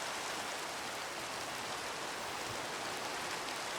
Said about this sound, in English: Oh, it's really rainy